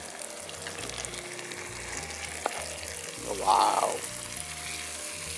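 Tomato puree sautés in a pan for potato masala, a close, steady sizzle with light stirring and a brief louder hiss midway, while a voice briefly exclaims.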